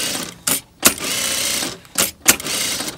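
Sewing machine stitching the hem of a sweatshirt being shortened, a steady close whirring run broken by two short pauses with clicks as stitching stops and restarts.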